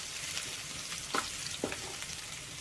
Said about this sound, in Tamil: நம்ம வந்து பூண்டு போட்டுட்டு நல்லா ஒரு 2 நிமிஷத்துக்கு வணக்கிக்கோங்க